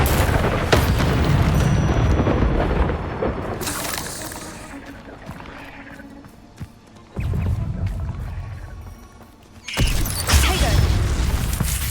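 A Confringo explosion spell cast in the Hogwarts Legacy video game: booming blasts and crackling bursts with rumbling debris, fading into quieter stretches before another loud burst near the end.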